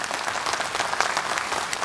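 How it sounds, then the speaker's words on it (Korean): Steady, dense applause from an audience at the 2014 Jeonju MBC Lions service award ceremony, a short continuous burst of many hands clapping with faint crowd murmur. "다시 한번 큰 박수 부탁드립니다."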